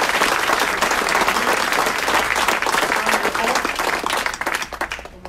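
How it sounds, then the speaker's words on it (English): Loud, dense applause fills a city council meeting for newly sworn officers, a crowd clapping continuously up close before tapering off near the end, with voices faintly mixed in. "One more big round of applause for our new officers."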